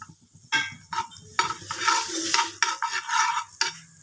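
Butter or ghee melting and sizzling in a hot pan, close and steady, with stirring scrapes and a few utensil clicks over the frying hiss.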